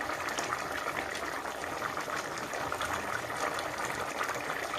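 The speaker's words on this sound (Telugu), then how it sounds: "ఉడుకుతూ ఉంది చింత చిగురు హోమ్ మేడ్ గరం మసాలా అండి" Crab curry with tamarind leaves and homemade garam masala bubbling in a pot, a steady close boiling burble that stays even throughout, with no talking.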